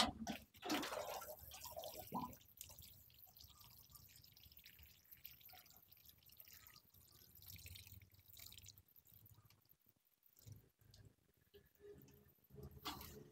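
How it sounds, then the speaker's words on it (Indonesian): Water trickles and drips onto bonsai potting soil in a small anting putri plant pot, soft intermittent splashes and patters close by, fairly quiet, with no talking. "coba siram dulu sedikit ya"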